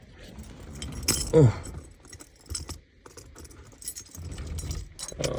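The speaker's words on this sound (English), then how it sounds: "Oh, okay, I got the keys here." Car keys for a 1984 Chevrolet Monte Carlo SS jingle and clink in short bursts close by, with scattered handling noises and light rustling between them.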